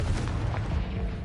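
A Confringo spell explosion in Hogwarts Legacy, a short deep booming blast with a rumbling tail and no voice over it.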